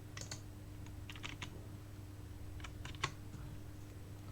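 Typing on a computer keyboard, a few short bursts of light key clicks with gaps between them, fairly quiet over a steady low hum, no talking.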